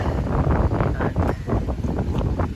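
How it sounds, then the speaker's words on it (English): Wind buffets the microphone outdoors on a breezy hiking stop in the mountains near Bulnes, Spain, a loud continuous low rumble with gusty surges throughout. "this is probably very windy for you guys"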